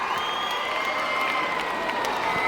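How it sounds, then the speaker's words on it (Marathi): A crowd of children cheers and shouts together, a dense continuous roar with clapping mixed in, loud and sustained. "टाळ्यांचा आवाज ऐकू आला पाहिजे"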